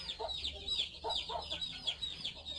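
A hen clucks in soft, repeated bursts, close by, with faint chick peeps from newly placed chicks running throughout and a low steady hum underneath.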